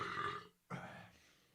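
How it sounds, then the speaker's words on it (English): A single burp rises in a quiet indoor podcast setting, breaks off briefly, then rumbles on for a second more at close range, fairly soft overall. "here it comes, first burp of the podcast"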